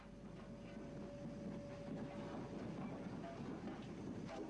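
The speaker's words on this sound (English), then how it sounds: "Having uncoupled, the locomotive reverses round its train" A West Country class steam locomotive reverses round its train, giving a steady, low, rumbling rail sound with a faint sustained tone throughout and no voices.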